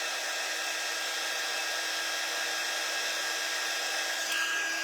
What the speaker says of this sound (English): now I'm bumping it with the dryer